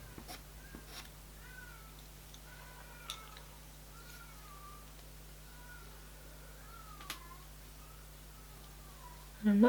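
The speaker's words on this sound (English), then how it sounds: "I've got a singing cat outside my window" A cat singing outside a window, a series of faint, drawn-out wavering meows spread across a quiet room tone, with a brief louder noise at the very end.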